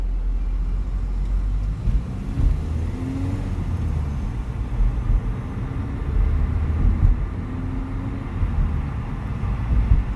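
A car rolls along slowly with light braking, a quiet low engine and road rumble with gentle, shallow pitch changes and a few soft bumps, without speech.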